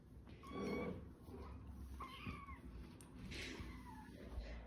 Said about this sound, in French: je vais vous montrer les chatons comment ils sont bien évolués